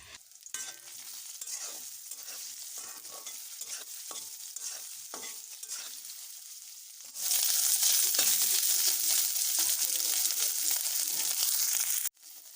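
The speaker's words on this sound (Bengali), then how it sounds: "একটু ভালো করে ভেজে নিতে হবে" Soya chunks fry in hot oil with a soft crackle and intermittent stirring scrapes, then the sizzle jumps suddenly to a loud, bright, continuous hiss close by that runs steadily until a brief cut near the end.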